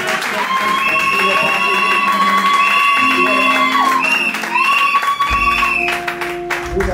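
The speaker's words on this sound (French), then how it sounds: "On donne une offrande d'acclamation au Seigneur Jésus-Christ de Nazareth" A church congregation clapping, cheering and whooping in praise, a loud continuous crowd sound with voices rising and falling in sustained tones throughout.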